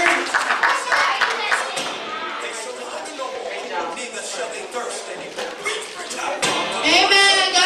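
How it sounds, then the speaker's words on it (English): A congregation at a Sunday evening worship service gives itself a round of applause. Loud, sustained clapping from many hands rises and swells at the end, mixed with chatter and children's voices. "give yourselves a round of applause"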